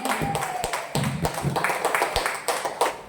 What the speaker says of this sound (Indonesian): Tepuk tangan, amin